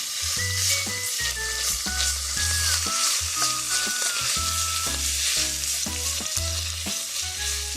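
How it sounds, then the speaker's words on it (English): Minced garlic sizzles loudly in a pan with chili meat, a steady bright frying hiss under repeated scraping stirs of a spoon against the pan. "add in your minced garlic. And we're just going to go ahead and mix that around until it's well combined"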